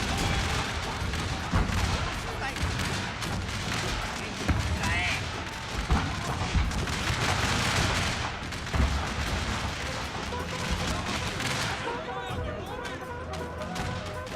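Infantry units open fire in a Civil War battle game set at Fort Wagner, a dense continuous clatter of musket volleys and booming reports that stays loud throughout, with a voice talking over the gunfire.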